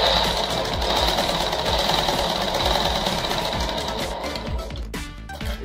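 Rapid mechanical clatter of a sewing machine stitching along a folded petticoat hem, loud and close, running continuously before slowing near the end.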